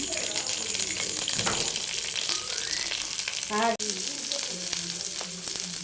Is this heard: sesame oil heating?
yes